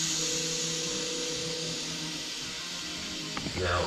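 A vacuum cleaner runs with a steady, loud motor whine during a home service call, ending with a few faint clicks and knocks.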